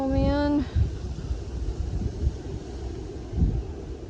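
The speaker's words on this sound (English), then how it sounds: "Yep, very windy." Outdoor wind blows in a steady broadband rush, buffeting the microphone with low rumbling gusts, loud and close; a brief voice-like tone is heard at the start.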